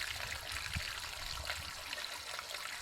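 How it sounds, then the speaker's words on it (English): Dirty koi pond water running out onto gravel, a steady hissing trickle and splashing flow, close and continuous for a few seconds, no talking. "As you can see, I just let it run onto the gravel."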